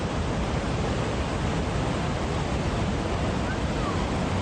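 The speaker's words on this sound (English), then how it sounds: "This is what 200 millimeters of rain does to a waterfall." A waterfall swollen by about 200 millimetres of rain, heard as a dense, steady, unbroken roar that stays loud and close with no voices over it.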